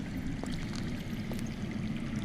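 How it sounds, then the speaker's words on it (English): Underground water flowing in the Game of Thrones Telltale video game, a steady, continuous rushing stream that fills the whole stretch at moderate level, with no speech. "I hear water."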